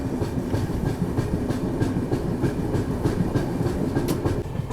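The 19251 Okha Veraval Express rolls along between Dwarka and Somnath, heard from inside a 3rd AC coach as a loud, continuous rumble with a regular clickety-clack of wheels over rail joints.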